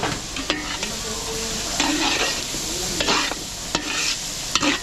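Garlic fries in butter in a pan, crackling and sizzling steadily while a utensil scrapes and stirs it in irregular strokes, close and clear with no talk.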